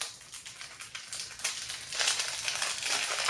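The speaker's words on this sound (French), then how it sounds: "je vais juste le déballer" Plastic packaging being opened on a cheap discount-store purchase, a continuous close crinkling and rustling that grows louder toward the end, with no talking.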